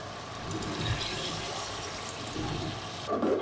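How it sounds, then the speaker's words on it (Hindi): Tamarind juice is poured into a pot of chicken for biryani, a close, soft liquid splash and trickle that runs steadily and ends with a brief fuller gush. "और ये जो हमारा इमली का रस है अब हम ये ऐड करेंगे इसमें।"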